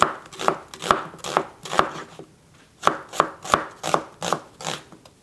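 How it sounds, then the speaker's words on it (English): An onion sliced with a knife on a cutting board, a series of crisp, evenly spaced chops in short bursts with a brief pause midway, close and clear with no voices. "All right, let's cut our onion."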